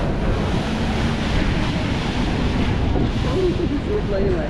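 Steady wind roars across an open seaside setting in Malaga, Spain, mixing with the broad wash of surf, loud and continuous, with faint distant voices and a brief whistling tone near the end.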